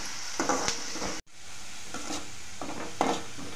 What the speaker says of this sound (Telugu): ఆనియన్స్ మంచిగా రెడ్ కలర్లా ఫ్రై అవ్వాలి.